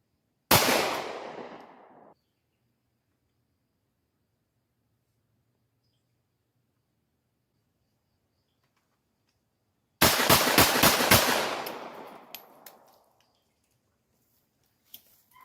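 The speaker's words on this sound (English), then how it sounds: "I have video of this speed drawing and putting rounds on target" Handgun shots fired at a target after a speed draw from a crossdraw holster, a tight loud burst of several rapid shots near the start and another quick string of shots about ten seconds later, with silence between.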